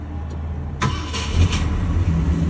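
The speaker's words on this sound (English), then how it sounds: "even though it's an old car, 1976, but it's working or it's starting very nice." An old 1967 Ford Thunderbird engine cranks and fires abruptly, then settles into a steady, loud running rumble with small surges, heard alone.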